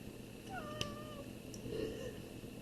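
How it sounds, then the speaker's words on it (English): A pet cat meows faintly indoors, a single drawn-out mew with a slight rising-falling tone, distant and quiet against a low room hum. "That was my cat."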